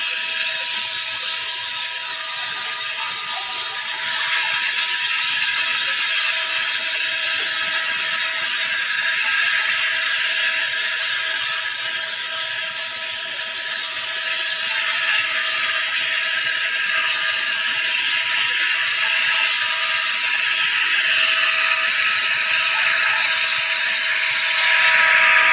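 A CNC engraver cuts aluminum under a mist cooler with a fine 0.1 mm tip, giving a continuous bright hiss and high whine with steady mechanical chatter, loud and unbroken throughout with no voices.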